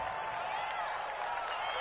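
Stadium crowd at an NFL football game against the Steelers, a dense continuous roar of home fans with some clapping, loud and even throughout.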